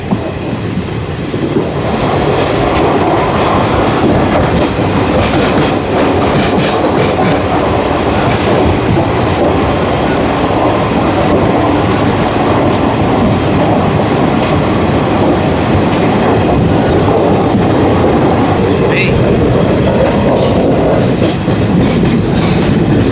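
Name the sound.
train wheels on track through tunnels, Visakhapatnam–Araku train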